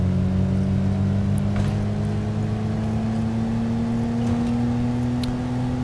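A sluggish, worn-out car engine strains to accelerate in State of Decay, a steady loud drone with a slowly rising pitch and no real surge of speed.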